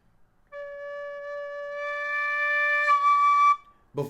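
A single sustained high whistle note, clear and pure, held for about three seconds, up close and alone.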